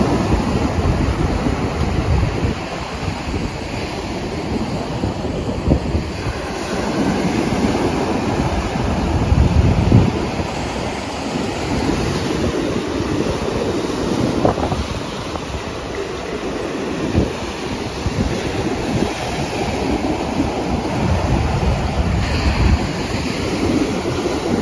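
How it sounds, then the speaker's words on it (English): Huge ocean waves break and wash up onto the shore in a continuous roar, with heavy wind buffeting the microphone and surges swelling and easing over time. "I'm trying to not get my feet wet, but this wave, the waves are huge and they're keeping coming up here."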